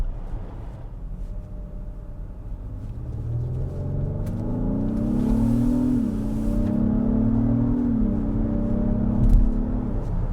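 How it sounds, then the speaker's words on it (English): A 2024 Acura MDX Type S turbocharged engine accelerates, its steady low drone climbing in pitch with a brief dip around a gear change, loud and close from inside the cabin. "the turbos sound good. Yep. Feel them spooling up."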